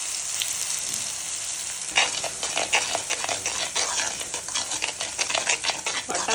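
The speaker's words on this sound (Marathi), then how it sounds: "जराशी लसूण तडतडली ना की आपण वाटप टाकूया" Masala paste hits hot oil with crushed garlic, a bright steady sizzle that jumps louder as it goes in, with repeated scraping stir strokes of a spoon against the pan.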